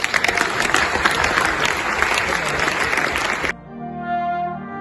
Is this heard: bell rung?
no